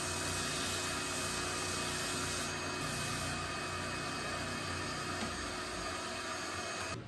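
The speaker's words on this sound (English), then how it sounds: "Just gonna clean these up on the sander." A sander cleans up the wooden sides of an acoustic guitar being built, giving a steady broadband whirring hiss that runs evenly throughout.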